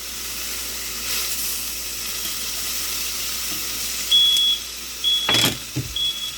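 A smoke alarm sounds while food cooks on a cast iron pan: three short, shrill electronic beeps in the last two seconds, set against a steady background hiss of sizzling.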